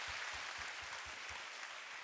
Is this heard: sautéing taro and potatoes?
no